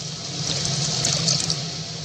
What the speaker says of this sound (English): Now let's add the juice.